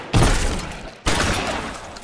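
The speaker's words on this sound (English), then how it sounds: "Ooh, he got a Tommy gun." Two heavy, loud gunfire bursts from a Tommy gun in L.A. Noire, each a sharp blast trailing into a rattling decay, about a second apart, with no talk.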